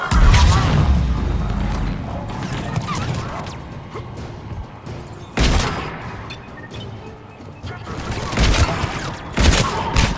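Shotgun fire in the video game Mass Effect 3 Legendary Edition: repeated loud, booming blasts and rattling bursts over continuous combat noise, with heavier shots around the middle and near the end.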